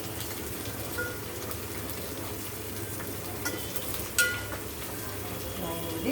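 Fish curry frying in a pan, a steady close hiss and crackle of sizzling oil continuing throughout, with a few faint clinks of a utensil.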